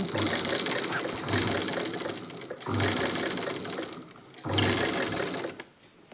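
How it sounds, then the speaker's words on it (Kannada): A sewing machine stitches a churidar hem, running in close, loud bursts with a steady mechanical whir and brief pauses between runs. "ಹಾಫ್ ಇಂಚ್ಗೆ ಫೋಲ್ಡ್ ಮಾಡಿ ಈ ರೀತಿ ಸ್ಟಿಚ್ ಮಾಡ್ಕೊಳ್ಳಿ"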